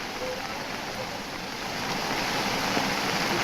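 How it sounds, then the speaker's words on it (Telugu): A dense, continuous roar of floodwater rushing through a stream after heavy rain in Kamareddy district, Telangana, steady and loud with no voices. "వరద నీరు ఉధృతంగా ప్రవహిస్తోంది"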